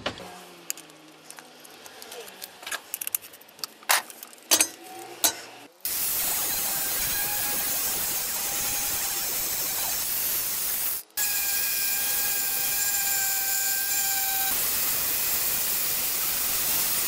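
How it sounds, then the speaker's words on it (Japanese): A felt buffing pad polishes a 4.5 mm thick steel plate, giving a steady, loud whirring and rubbing drone with a faint tonal whine. It runs continuously after a few scattered clicks and knocks, then pauses briefly and resumes. "こういうフェルトので磨いてみたいと思います"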